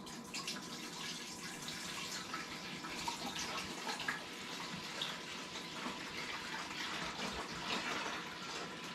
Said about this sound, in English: Just pour some water into the top.